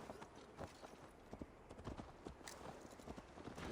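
A horse gallops in Assassin's Creed Valhalla with quick, rhythmic hoofbeats, steady and moderately close, set against a soft outdoor ambience.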